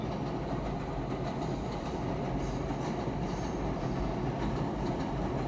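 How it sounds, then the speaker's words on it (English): A train rumbles past close by, a dense, steady roar of wheels on rails with faint clattering and squealing, continuous and loud without voices. "Oh, train's coming by."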